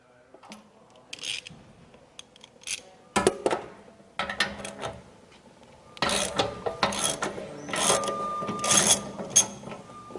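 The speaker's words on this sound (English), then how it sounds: "a ratchet wrench and an 1 1/16 socket" Ratchet wrench fitted with a 1 1/16 socket loosening the drain plug on a travel trailer's water heater, giving bursts of mechanical clicking and clatter in several close, loud runs separated by brief pauses.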